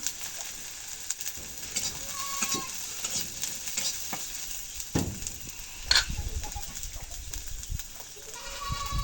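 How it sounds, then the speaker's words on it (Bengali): Chilies, onion and garlic sizzle and crackle in hot oil while being stirred in a home kitchen, a steady close frying hiss with scraping stir strokes and occasional louder pops. "এখন মরিচ পেঁয়াজ রসুন ভেজে নেই তেলের মধ্যে"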